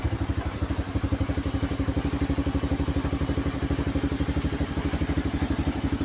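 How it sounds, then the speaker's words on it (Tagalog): A motorcycle engine idles close by, a steady, rapid chugging pulse of even low thumps that runs unbroken throughout, with no voices over it. "Patayin muna natin ang makina ni Buddy, baka maubusan tayo ng gasolina."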